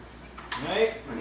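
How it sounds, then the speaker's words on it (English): Water poured back into an aquarium canister filter during cleaning, starting as a sudden rushing splash halfway through and running on as a steady gurgling pour, close and fairly loud. "pour the water back in here so it fills up."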